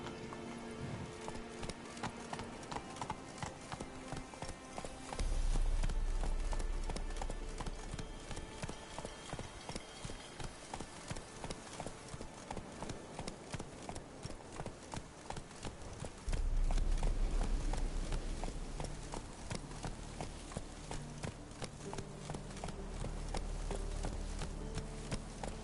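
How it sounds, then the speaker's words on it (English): A horse gallops in a PS4 video game, hooves pounding in a fast, steady clip-clop rhythm that swells louder twice, with faint game ambience behind. "Whoa there, Roach."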